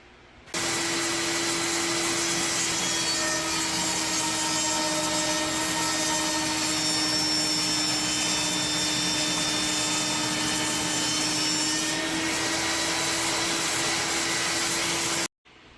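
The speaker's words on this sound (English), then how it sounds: "instead of using the bandsaw to cut the grip off, I decided to use my table saw" Table saw cutting the grip off a blue plastic training gun gives a loud, continuous high whine over a steady motor hum, running unbroken for about fifteen seconds and stopping abruptly.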